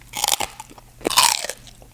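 Crunchy oven-roasted pork skin bitten and chewed up close, two loud crackling crunches followed by brief chewing, with no talking.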